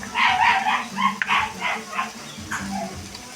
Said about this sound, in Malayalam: നമ്മുടെ വീടിന്റെ അപ്പുറത്തെ വീട്ടില് പട്ടിയുണ്ട് ആ പട്ടിയാണ് കുരക്കുന്നത്